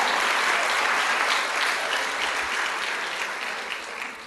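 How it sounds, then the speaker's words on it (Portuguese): A church congregation applauds loudly and steadily, a dense wash of clapping that fades slightly toward the end. "Você pode aplaudir então bem forte aí no seu lugar."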